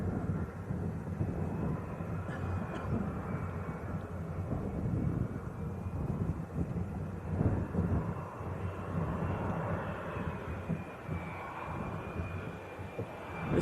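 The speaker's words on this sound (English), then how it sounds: "this is the Citation 680" Cessna Citation 680 business jet at Leeds Bradford Airport, a steady broadband engine roar holding loud and continuous throughout, rumbling with some wind buffeting and a faint high whine running across.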